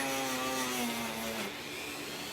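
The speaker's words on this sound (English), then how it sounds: "Then with a Dremel." Dremel rotary tool grinds against the brass horn of a Selmer Reference 54 saxophone, a faint, steady high whine with a shifting buzzing tone throughout the short burst.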